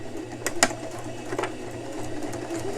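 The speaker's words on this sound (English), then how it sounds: "you move forward a couple stitches and then back stitch" A sewing machine stitching a seam on a man's dress shirt, a faint, near mechanical hum with a few brief clicking bursts as it moves forward and back-stitches, no voices.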